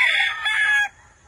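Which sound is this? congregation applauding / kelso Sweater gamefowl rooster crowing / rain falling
kelso Sweater gamefowl rooster crowing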